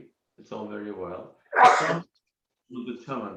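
A single sharp sneeze bursts out between stretches of talk during an online dentistry webinar, loud and close, with voices speaking before and after it.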